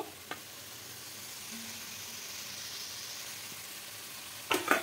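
Cabbage with grated coconut sits sizzling softly in a pan over medium heat, a low steady hiss, with a light tap near the start and a brief clatter of stirring at the end.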